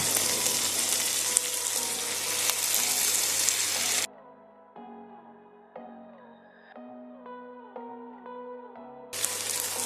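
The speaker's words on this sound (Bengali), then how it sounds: "টমেটোটা গলে না যাওয়া পর্যন্ত ভালো করে ভেজে নেব।" Chopped tomato fries with spices in a pan for quail bhuna, with loud, dense sizzling for about four seconds. The sizzling gives way to quiet tonal sounds, then returns briefly at the end.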